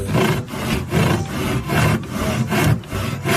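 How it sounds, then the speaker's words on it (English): Rhythmic back-and-forth sawing through wood, loud and close, with steady rasping strokes about every half second and no talking. "Now let's take a look at a real saw in motion."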